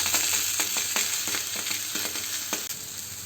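Tomatoes fry with onions and garlic in a pan for horsegram sambar, a close, steady sizzle broken by several sharp stirring scrapes, with no voices.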